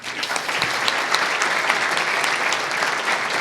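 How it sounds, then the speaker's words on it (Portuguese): An audience at an education lecture at a school bursts into sustained applause, dense overlapping claps filling the room evenly at a steady, fairly loud level with no talk over it. "Uma salva de palmas."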